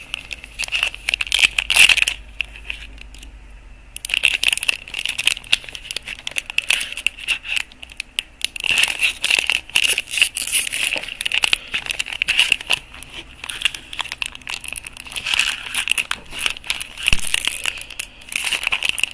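Foil wrapper of a Magic: The Gathering Duskmourn collector booster pack being crinkled and torn at, a close, loud, continuous crackling and crumpling that runs nearly unbroken with brief pauses.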